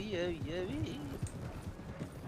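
Horse hooves in a Red Dead RP video game clip-clop at a steady trotting rhythm beneath overlapping talk, with a faint musical tone in the background.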